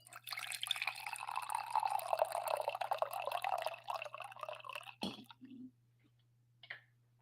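Liquid being poured into a glass during a livestream, a steady trickling, splashing flow for about five seconds, fairly close, followed by a couple of faint clinks and quiet.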